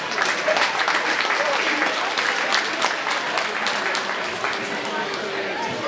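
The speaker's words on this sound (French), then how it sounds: "Donc on peut les applaudir." A hall audience at a judo and body karate club's end-of-season general meeting claps steadily and loudly for the body karate practitioners, sustained dense applause throughout.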